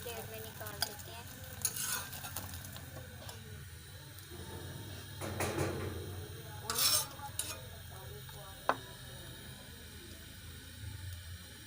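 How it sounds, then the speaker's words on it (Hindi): A fried egg is lifted from a sizzling pan onto a plate, with faint frying crackle under scraping spatula strokes and a few light clinks of utensil against pan and plate, all fairly quiet. "अब हम इसको प्लेट में निकाल देते हैं।"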